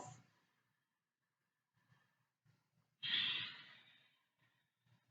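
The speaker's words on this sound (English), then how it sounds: "Nice deep inhale. And exhale. 2 more deep breaths." Deep breathing during a Hatha yoga flow: a faint exhale trailing off at the start, then quiet soft breaths before a loud, long sighing exhale that fades gradually, with a few soft breaths after.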